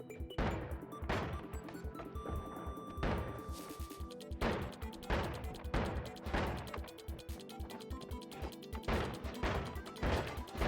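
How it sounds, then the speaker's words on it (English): Repeated heavy shotgun blasts in the video game Noita tear apart the terrain, each loud crashing boom followed by crumbling debris, firing in an irregular rapid rhythm throughout with no talking. "the shotgun actually is pretty nuts at just demolishing the environment"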